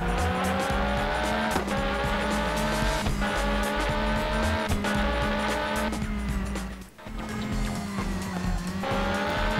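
A Porsche 911 GT1 race car in a PlayStation racing game roars at high revs with a loud, continuous engine drone, gear changes and tire squeals, and a brief dip near the end; there is no speech.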